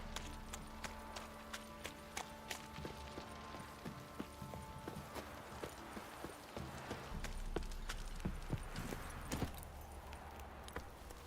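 Horse hooves clop at a steady walking rhythm in the video game The Witcher 3, faint and even, with light jingling and background ambience.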